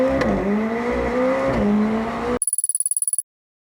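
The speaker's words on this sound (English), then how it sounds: "Foot all the way down, first gear, go." A McLaren 765LT Spider at full throttle in first gear gives a loud engine roar whose pitch climbs and dips with the revs, then cuts off into a short string of sharp high-pitched beeps.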